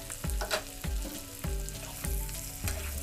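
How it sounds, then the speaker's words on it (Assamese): Pork seasoned with salt and turmeric cooks in a pan on a low flame for an Assamese pork dish, sizzling steadily while stirring strokes scrape through it about every half second, close and without talking. "মই গেছটো ল' ফ্লেমত ৰাখি এনেদৰে মাংসবিলাক গাপতে বনাই আছোঁ"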